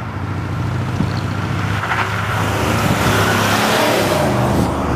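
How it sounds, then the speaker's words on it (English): A 2015 Cadillac Escalade 4x4 cruises along a smooth road, giving a steady, even low rumble of engine and tire noise from inside the cabin that holds constant throughout, with no voices. "On a smooth road like I'm driving on right now, this truck just rides beautifully"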